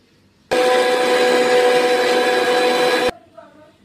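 An electric grinder whirs loudly and steadily for about two and a half seconds while blending ginger, tomato, chili and mustard into spice paste, then cuts off abruptly.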